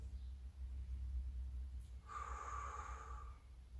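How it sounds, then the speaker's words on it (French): A single soft exhale during a back exercise, one breathy rush of air lasting about a second, quiet and close against low background hum. "vous soufflez en redescendant."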